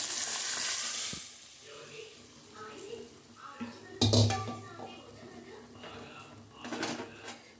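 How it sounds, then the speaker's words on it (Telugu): Dal tipped into a sizzling tempering with curry leaves in a pan for tomato dal, a loud hiss at the start fading into softer sizzle and stirring clatter, with a sharp burst midway and talk over it. "పప్పు వేసుకుందాం."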